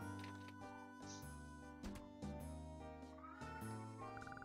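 A pet cat meows several times in a row, drawn-out and tonal, close to the microphone and fairly quiet, with a game's music and sounds running underneath.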